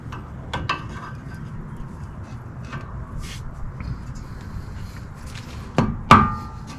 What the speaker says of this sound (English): first I'm going to be loosening this lock nut